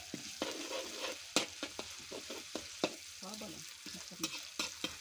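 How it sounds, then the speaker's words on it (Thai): Chili stir-fried in hot oil on a stove, with a steady sizzle under repeated scraping and clacking strokes of a spatula against the pan. "ใส่น้ำมันลงไป ใส่พริกลงไป ผัด"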